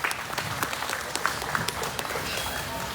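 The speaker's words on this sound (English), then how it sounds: "let's give these young people a big round of applause this morning as they take their gilts back" Audience applause in a livestock show barn for young exhibitors at a junior crossbred gilt show, steady moderate clapping with scattered sharper claps and some background voices.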